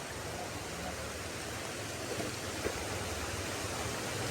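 Heavy rain pouring down outdoors, a dense, steady hiss of broadband noise with no breaks, fairly faint throughout.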